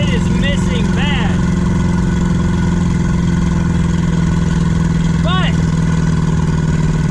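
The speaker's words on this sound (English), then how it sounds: "I think the distributor's soaked, but it is missing bad." A drag car engine idles roughly and misfires badly, its distributor suspected of being soaked, with a loud, uneven low rumble throughout while someone talks over it.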